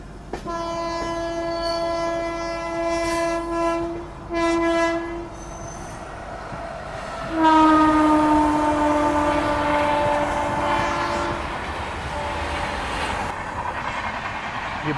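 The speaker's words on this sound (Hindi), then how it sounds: "हमारी ट्रेन को सिग्नल मिल चुका है निकलने का।" A Swarna Jayanti Express train departing in Jharkhand sounds its loud horn: two short blasts, then a long sustained blast, close and dominant over a low rumble of the train.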